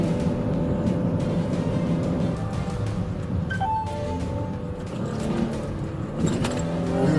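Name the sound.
car accelerating during a police chase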